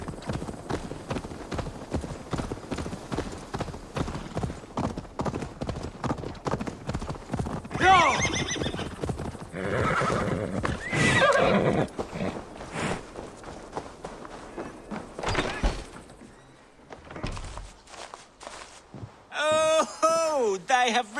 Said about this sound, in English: Get the eight-legged horse.